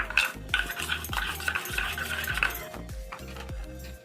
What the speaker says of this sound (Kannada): ಈ ಥರ ಕಲಸಿಬಿಡೋಣ ಇದು ಗಟ್ಟಿಯಾಗಿ.